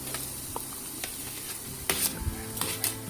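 Tomatoes and onions fry in a pan for a mango prawn curry, giving off a close, steady sizzle with occasional scraping stirs and a few brief clinks.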